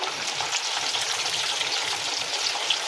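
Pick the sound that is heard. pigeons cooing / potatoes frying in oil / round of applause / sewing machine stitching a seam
potatoes frying in oil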